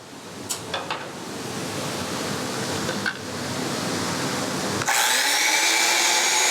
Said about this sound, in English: any saw needs to be fully RPM'd up prior to doing anything